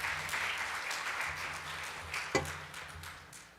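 A conference audience applauds steadily after a forum presentation on property technology, with continuous clapping that fades slightly over a few seconds.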